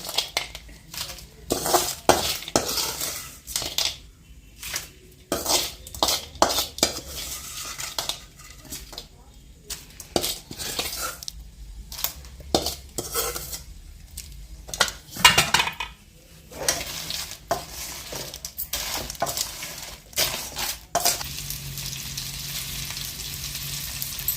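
Crab fry coated in masala is stirred in a pan with a metal spoon, giving repeated scraping and clattering strokes over a steady sizzle, close and fairly loud, while someone talks at intervals.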